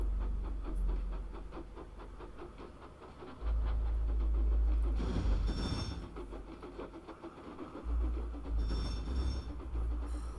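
A steam engine named Duncan puffing along the line, a rumbling train sound with low chugging surges and rattling wheels that swell and ease off, with no one talking.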